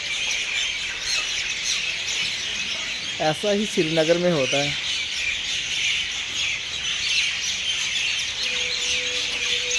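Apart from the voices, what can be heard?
many small birds chirping in the morning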